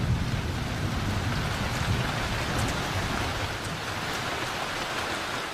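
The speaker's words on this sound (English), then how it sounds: "When rain comes to Sabah, it comes hard and without warning." Heavy rain pouring down in Sabah, Borneo, a dense, steady hiss of falling water with no voices, unbroken from start to finish.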